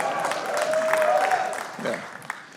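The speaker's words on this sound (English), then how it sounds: "It's funnier because some of you clapped." A stand-up comedy crowd claps and murmurs in a club, a moderate wash of applause blending with laughter while a voice speaks briefly over it.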